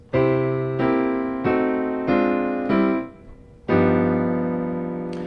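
A piano plays a short blues turnaround, a run of sustained chords struck one after another, ending on a held, ringing final chord.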